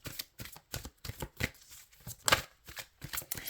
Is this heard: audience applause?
no